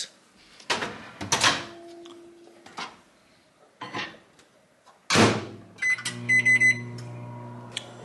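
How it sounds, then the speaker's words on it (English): Microwave oven heating oats with milk: door and handling thumps, then a steady low hum with a few high electronic beeps near the end, close and fairly quiet. "microwave this real quick for about 2 minutes."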